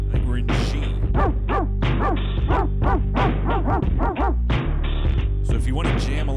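Several dogs bark loudly and repeatedly in a steady rhythm of close, pitched yelps and woofs that continue without a break.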